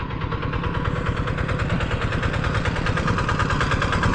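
A diesel engine idles steadily and loudly up close, its low chugging rhythm constant throughout with no voices.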